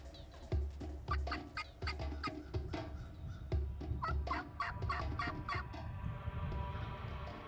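Wild turkey gobbler, left alone after the hens departed, gobbling repeatedly in a spring hunt setting, a series of loud rattling gobbles and bursts close by, with other bird calls scattered through the outdoor air.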